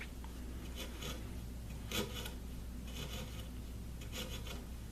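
A sharp hand tool cuts through a wooden dowel in a few short rasping strokes, close and fairly quiet over a low background hum.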